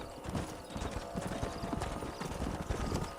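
Horses galloping in the Red Dead Redemption video game on PS3, with dense overlapping hoof clip-clops and a faint whinny under a busy, steady game mix.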